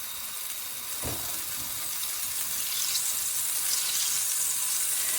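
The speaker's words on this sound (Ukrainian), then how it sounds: "На гарячу сковорідку додаємо вершкове масло." Steady broadband sizzling hiss of butter melting in a hot frying pan, continuous and close, growing slightly louder toward the end.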